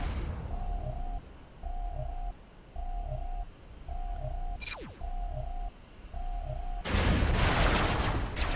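SMG fire in the robot combat game Robocraft comes as a string of evenly spaced bursts over a steady rumble, then a sweeping whine and a loud, dense stretch of rapid shots at the end.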